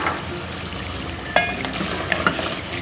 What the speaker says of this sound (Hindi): अब आलू डाल के हम इसकी भुनाई करेंगे।